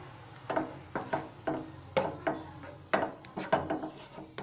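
Raisins roast in a pan for broken wheat kesari, a spoon scraping and stirring them in quick, soft, rhythmic strokes, quiet and close.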